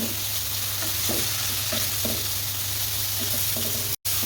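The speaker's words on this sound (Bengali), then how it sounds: "করলাটা একটু ভাজা ভাজা করবো আমি।" Bitter gourd and potato, with a little turmeric, fry in a pan as a constant loud close sizzle, with soft scraping and clinking of a spatula stirring through it.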